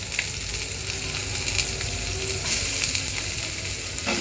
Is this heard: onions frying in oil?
yes